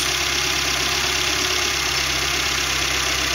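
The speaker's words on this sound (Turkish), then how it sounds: "İlk kez çalıştırıyorum aracı" A car engine idles after sitting unused for two days, with light smoke coming from the exhaust; a loud, close, steady drone with a constant vibrating hum and no talking.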